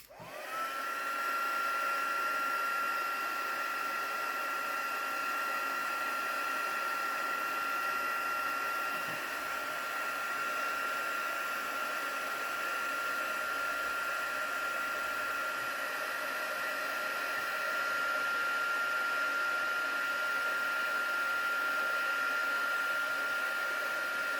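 A heat tool blows steadily for heat embossing, a loud continuous whirring fan with a high whine that starts abruptly and holds unbroken, close up, with no talk.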